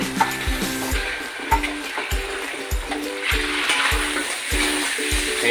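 Water poured into a hot kadhai of frying masala for half egg curry brings a loud, bubbling sizzle that swells midway, under a steady run of regular thudding knocks.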